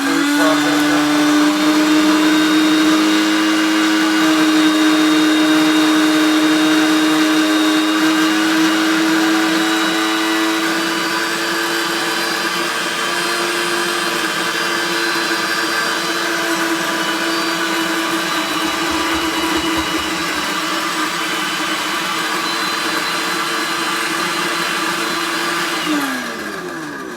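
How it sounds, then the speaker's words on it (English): Food processor whirring with extra virgin olive oil in the bowl, a loud steady motor drone held for the whole stretch with a constant pitch, close and uninterrupted, winding down at the end. "We're going to go ahead and turn this on, put it on food processor."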